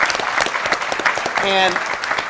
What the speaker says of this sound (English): I think we should give your husband a round of applause for all his great work